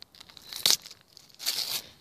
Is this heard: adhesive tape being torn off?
yes